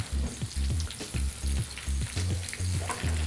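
Chopped spinach leaves fry in a hot pan, giving a steady, close sizzle broken by repeated stirring scrapes in a regular rhythm, with no voices.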